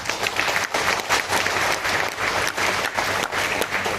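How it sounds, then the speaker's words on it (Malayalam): An audience at a realtors' meeting in a hotel hall claps in sustained, dense applause that stays fairly even throughout, with no talking over it. "പഴയ ആൾക്കാർ വേണമെങ്കിൽ ഒന്ന് കൈയടിച്ചു."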